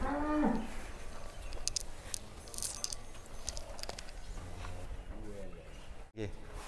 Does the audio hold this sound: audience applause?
no